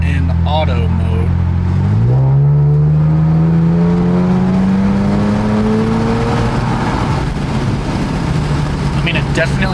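An Infiniti Q60 engine and exhaust climb through the rev range in a hard pull, a loud droning note rising steadily in pitch after a quick shift, heard from inside the car with windows cracked while a voice speaks over it.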